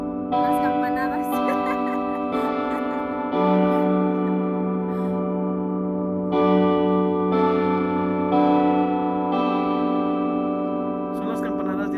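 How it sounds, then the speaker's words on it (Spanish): Church bells in Assisi toll in a run of distinct strikes about a second or two apart, each leaving a long, overlapping ring that carries through the whole passage, with voices faintly underneath. "Son las campanadas de Asís"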